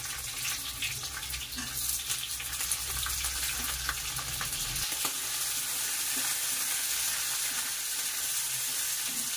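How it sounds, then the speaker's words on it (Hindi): Onion frying on high heat in a pan for chilli paneer, a loud continuous close sizzle with crackling spatter, a low rumble in the first half dropping away midway, no talking. "अब ओनियन डाल देंगे इसमें।"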